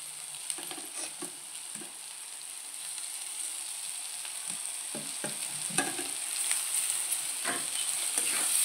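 Carrot and capsicum sauté in a pan for pasta, a steady soft sizzle with occasional scraping stirs of a spoon throughout, close and moderately quiet with no talking.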